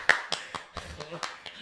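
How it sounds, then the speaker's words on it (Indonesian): A small podcast audience gives a brief, sparse round of clapping, about seven separate crisp claps spaced unevenly, fairly close and quiet. "Tepuk tangan dulu semuanya."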